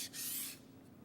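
A Japanese kitchen knife blade held flat rubs across a sharpening stone in a single soft, close stroke lasting about half a second, hissing briefly and then fading to quiet.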